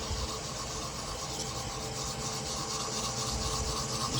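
Light sandpaper rubbing back and forth against a walnut goblet spinning on a wood lathe at about 700 RPM, a continuous soft rasp layered over the lathe's steady motor hum.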